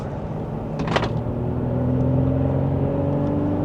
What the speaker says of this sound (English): just a minor acceleration for this new vehicle